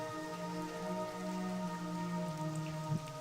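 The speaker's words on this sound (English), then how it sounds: "And there's some rain in the forest today." Steady rain falling in a forest in World of Warcraft, a continuous even patter heard alone at a moderate level, with a low droning ambience underneath throughout.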